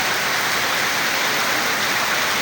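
Heavy late-winter rain pours down in a dense, constant roar, loud and close with no pauses and no voices.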